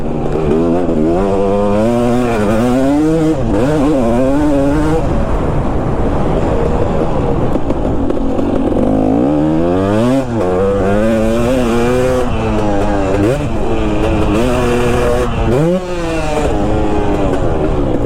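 A two-stroke motorcycle ridden hard around a track, its engine loud and near throughout, whining up and down through repeated revs and gear changes without a break.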